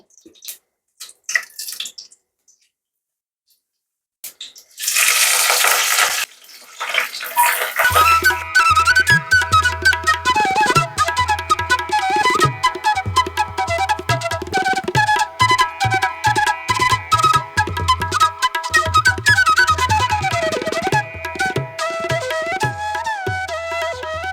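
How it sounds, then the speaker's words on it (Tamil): Tap water runs briefly while a mixer jar is rinsed in a home kitchen while making lentil dumpling curry, a short burst of splashing followed by steadier running water under a busy layer of tonal sound. "மிக்சி ஜார் கழுவி ஊற்றியாச்சு"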